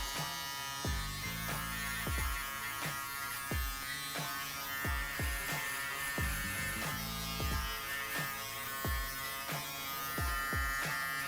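Close electric hair trimmer buzzing steadily during a low fade haircut on coily hair, with repeated soft taps and scrapes as the blade works along the hairline, no talking.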